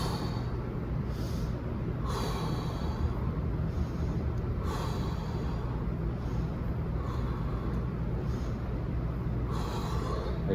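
Slow, deep breaths taken while holding a stretch, several airy inhales and exhales spaced a couple of seconds apart over a steady low background hum, with no talking.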